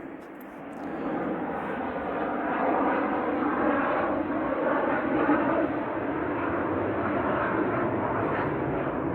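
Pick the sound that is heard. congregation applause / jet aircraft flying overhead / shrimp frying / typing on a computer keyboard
jet aircraft flying overhead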